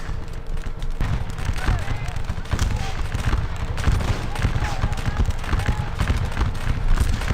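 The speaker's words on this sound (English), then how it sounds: "they're shooting at us from the building, and we are shooting back" Musket gunfire crackles in the Scourge of War Waterloo battle, with troops trading shots at a building. Scattered, overlapping volleys form a constant close din, and a voice talks over it.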